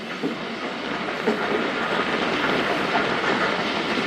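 The Khyber Mail passenger train running on its tracks, heard from on board as a steady loud rumble with rhythmic wheel clatter and a broad hiss, with no voices.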